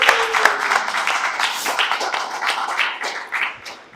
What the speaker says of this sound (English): Please give a big round of applause to Mr. Piyush Joshi and Mr. Abhishek Joshi.